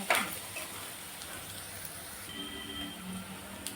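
Onion frying in hot tempering oil, a continuous soft crackling sizzle, fairly quiet and steady, with a sharp clatter at the start and another brief clink near the end.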